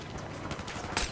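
A rapid burst of gunfire in a first-person shooter game, layered and dense over a brief stretch, with a sharper shot near the end and no talking.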